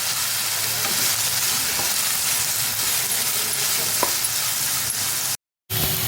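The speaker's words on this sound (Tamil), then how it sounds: "சாம்பார் வெங்காயமும் அதில் போட்டு கலரிக்கலாம்." Shallots and ginger-garlic frying with mustard seeds in hot oil for a mutton head curry, a steady close sizzle with occasional stirring scrapes, cut by a brief drop to silence near the end.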